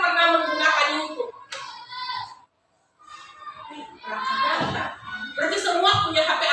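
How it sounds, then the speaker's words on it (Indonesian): Schoolchildren in an Indonesian classroom clap their hands in short bursts. The claps are mixed with children's voices and chatter, and there is a brief silent gap in the middle. "Tepuk tangan."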